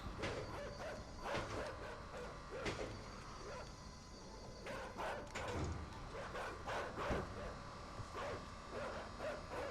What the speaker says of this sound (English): See you later, daft dogs.